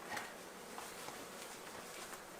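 Honey bees buzz steadily during removal of a hive from inside a wall, a close, continuous drone with a few brief louder passes and no talk.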